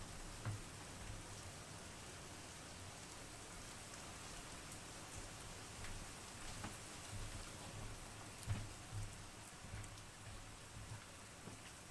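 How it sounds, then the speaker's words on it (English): Heavy rain pours steadily outside, a dense continuous hiss of drops drumming on surfaces with a few louder splashes, filling the whole stretch without any voices. "Damn, it's piss pouring the rain here again."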